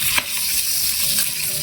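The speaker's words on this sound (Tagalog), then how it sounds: "Pipiritoin natin." Oil frying in a pan while a simple breakfast cooks, a steady broadband sizzle holding at even loudness throughout, with one brief clink near the start.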